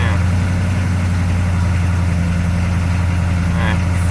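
A 6.2L diesel engine idling roughly, a loud, close, continuous low rumble with a steady uneven throb and no pauses, with a person talking over it.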